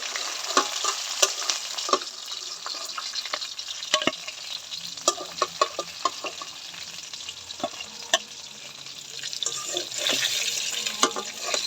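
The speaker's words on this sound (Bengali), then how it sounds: "একটু ভাজা কম হয়েছে, একটু ভাজা নিই।" Fish frying in oil in a home kitchen, a close, continuous sizzle dotted with frequent sharp spatters and clicks of a turner against the pan, with some watery hiss, no voices.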